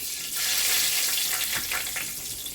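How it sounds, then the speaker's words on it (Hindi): Fenugreek seeds hit hot oil for tempering in a fish curry, giving a bright, hissing sizzle with crackly bursts that stays fairly loud and steady for a couple of seconds, with no voices. "मेथी से हम बघारेंगे।"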